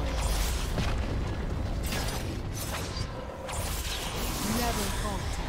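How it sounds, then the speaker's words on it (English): A turret crumbles in League of Legends during a mid-lane Kled versus Kassadin match, a dense continuous rumble of mechanical cracking and bursting that holds steady for several seconds, with a voice present in the mix. "turret has been destroyed"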